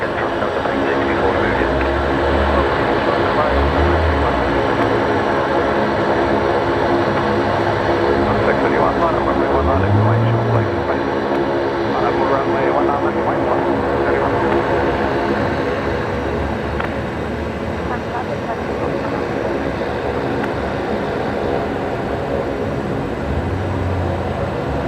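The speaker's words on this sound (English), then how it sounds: "Listen to that Saab in the background, making an absolute racket." Saab turboprop engines droning at Brisbane Airport at night, a loud continuous roar filling the background while people talk over it.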